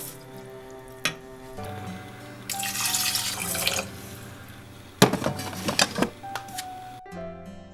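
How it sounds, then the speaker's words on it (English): Water running and splashing as rice is rinsed in a bowl to wash out the starch for onigiri, with bursts of pouring and sloshing, a few sharp clinks and drips, close and fairly loud in a quiet kitchen. "Start by washing out all the starch in the rice, and then once the water runs clear"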